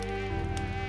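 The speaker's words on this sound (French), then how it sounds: "Mais la moustique fredonne toujours dans ma tête." A cartoon-style mosquito hum, a steady buzzing whine with strong harmonics that drops lower and pulses slightly after the first moment, loud and close with no talk over it.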